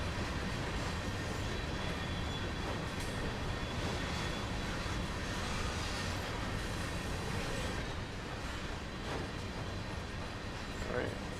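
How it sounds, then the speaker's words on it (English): A CSX GP38-2 freight train in Train Sim World rolls downhill with a continuous dense rumble and rattling of railcars and wheels, steady and loud from start to finish. "Alright, full train is on the decline now."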